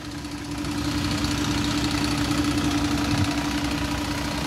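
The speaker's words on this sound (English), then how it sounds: "7 litre Volvo engine." The 7-litre Volvo engine of a 2010 Volvo B7R Plaxton Profile coach idles with a steady, slightly knocking diesel rumble, close and continuous, alone with no voices.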